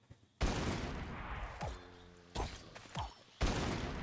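Gun-wielding zombie in a Minecraft SCP modpack shooting, several loud separate blasts with short echoing tails spaced irregularly across a few seconds, with no talking.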